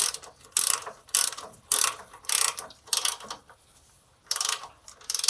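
A hand ratchet tightens the front engine mount bolts on a 2008 Harley-Davidson Dyna Super Glide, clicking in several quick bursts separated by short pauses, loud and close.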